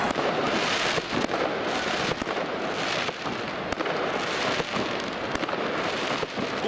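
Dense, continuous crackling of fireworks with sharp pops scattered throughout, loud and sustained without pause.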